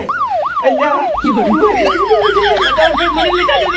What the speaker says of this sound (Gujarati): પોલીસની ગાડી આવેલી છે